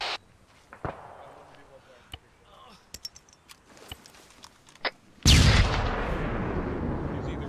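Gunfire in the military shooter ArmA 3 during a push into an enemy-held town: scattered sharp shots and distant cracks under radio-style voices, then a sudden loud sustained blast of fire near the end.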